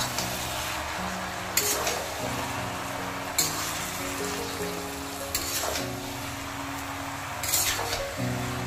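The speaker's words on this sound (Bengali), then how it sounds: "এবার কিছুক্ষণ বাদে বাদে আমি ঢাকা উঠিয়ে এভাবে নেড়ে দিতে হবে।" Cabbage fried in a pan for a fish-head cabbage ghonto, sizzling steadily as it is stirred, with a few sharp metallic clinks from the lid or spoon at intervals.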